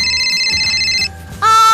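An electronic telephone ring tone trills steadily, pauses briefly, then starts again loud and close, in Minecraft.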